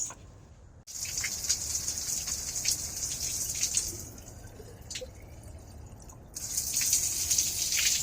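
Fresh, cold water from an artesian well in Gary, Indiana runs in a steady, close hiss with drips and patter, briefly cut off twice before the flow resumes.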